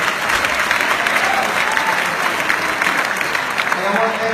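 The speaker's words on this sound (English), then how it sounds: "Let's give him a great big round of applause." Dinner ceremony audience at an air show reception gives a loud, sustained round of applause, dense steady clapping from many hands filling the room throughout.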